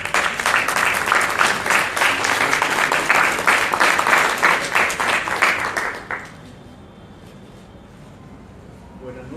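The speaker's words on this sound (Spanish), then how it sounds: "Lo recibimos con fuertes aplausos" Strong applause greets a guest at a book presentation, loud dense clapping from a crowd for about six seconds before it cuts off abruptly into quiet room tone.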